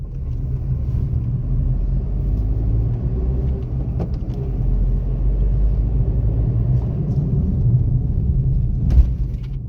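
A 2023 Maruti Suzuki WagonR VXi petrol hatchback accelerates, its steady low engine rumble and road noise droning from inside the car, with a brief sharper bump near the end.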